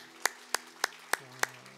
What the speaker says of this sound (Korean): 우리 다시 한번 하나님 앞에 감사의 박수 올려드리도록 하겠습니다.